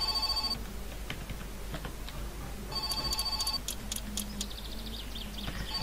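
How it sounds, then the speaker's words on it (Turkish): In the video game My Summer Car, a telephone trills in a fast electronic warble, once at the start and again mid-clip, each burst fairly loud against a steady low hum, with scattered clicks between. "Ya, telefon tekrardan çalıyor,"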